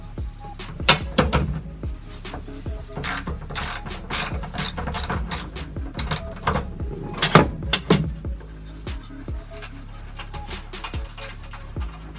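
A ratchet wrench backs out the bottom screw of a Honda Acty kei mini truck's seat, its rapid clicking pawl arriving in repeated bursts with brief pauses, close and fairly loud.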